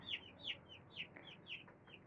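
Young chicken chicks cheep at home in a quiet, faint series of about eight short, high peeps in a regular rhythm, with no voices.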